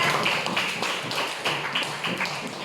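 A classroom of students claps for a student group during a teaching session. Dense, steady clapping from many hands fills the room at a fairly loud level, with no talk.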